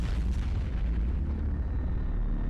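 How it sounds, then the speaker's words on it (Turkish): A deep, heavy explosion booms in an animated Skibidi Wars battle, loud and rumbling with a sharp crackling onset that decays into a sustained low roar, with no talk. "Aha, patlama oldu,"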